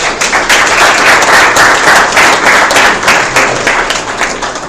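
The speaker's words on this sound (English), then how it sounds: "Let's hear a round of applause." An audience applauds speakers at a startup speaker series event, loud sustained clapping from a crowd that swells and pulses steadily, then tapers slightly toward the end.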